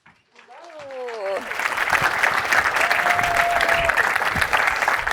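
An audience at an SXSW 2022 climate conference panel breaks into applause after a speaker's introduction, a dense steady clapping that builds quickly and holds strong, with a voice briefly heard at the start.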